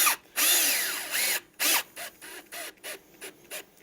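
A power drill whines up in a long burst, then fires in a string of short, rhythmic pulses as it drives a screw into wood, close by.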